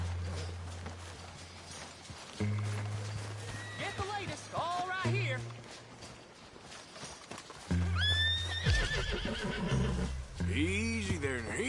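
A horse in a video game whinnies loudly several times over a thudding beat of galloping hooves, with a voice talking in between.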